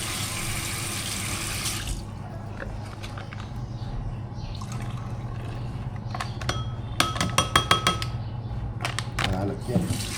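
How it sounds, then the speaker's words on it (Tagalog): Salted black beans rinsed under a running kitchen tap in a sink, with a steady rush of water and several sharp clinks of a bowl or utensils near the end. "Hugasan na nga yung banlawan natin"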